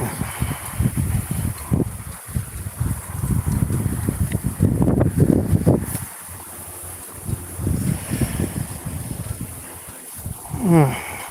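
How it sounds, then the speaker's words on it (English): Strong gusty wind buffets the microphone outdoors, roaring in loud, uneven bursts with brief lulls throughout. "Oh my God, I'm in a whirlpool of wind, guys."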